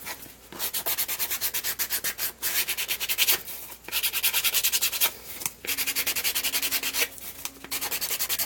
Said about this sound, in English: I just need to sand the edge.